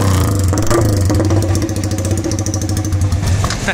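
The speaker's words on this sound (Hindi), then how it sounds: "अभी फिलहाल हम लोग खाली बैंड पाइप का साउंड सुनते हैं कैसा आ रहा है, देखते हैं।" Yamaha R15 V4 motorcycle engine running with only the bend pipe fitted as exhaust, a loud close rapid-firing idle with a brief blip of revving, steady and unbroken for a few seconds.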